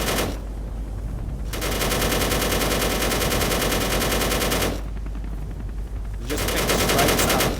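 Heavy guns in the Space Engineers video game fire in long sustained bursts from a vehicle, loud and continuous with a brief pause between volleys, no talking over them.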